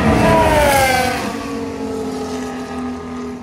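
Formula 1 cars running during the third practice session at Silverstone, a loud engine howl with sweeping pitch glides as a car passes, fading into a steady distant drone of engines.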